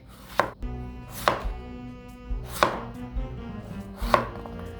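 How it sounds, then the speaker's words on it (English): A knife dices a potato on a cutting board in a home kitchen, giving four sharp, evenly spaced chops at close range with a faint background hum and no voices. "if you want to make diced potatoes, this is a simple way to do it."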